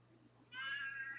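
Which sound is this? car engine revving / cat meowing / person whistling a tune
cat meowing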